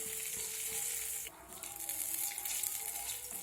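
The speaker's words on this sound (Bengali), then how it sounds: "এবার তেলের সঙ্গে ফোড়নটা ভালো করে ভেজে নিতে হবে।" Dried red chili and whole cumin sizzle in hot mustard oil, a steady close-up frying hiss with a brief dip partway through before the crackle resumes.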